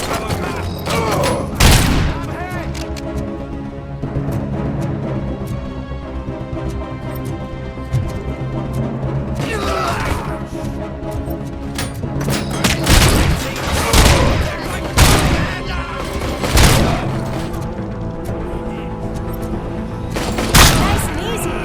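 Shotgun and SMG gunfire from the Robocop video game, with sharp repeated blasts and bursts spread across the stretch, heaviest toward the end, set against a steady game soundtrack and effects.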